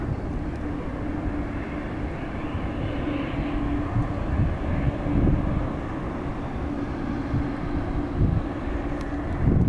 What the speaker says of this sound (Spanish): Avión de France, que yo creo que este también se va a preparar para despegar